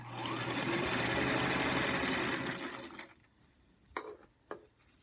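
A sewing machine runs steadily for about three seconds, stitching tuck lines in fabric, then stops, followed by a few soft handling clicks and taps nearby.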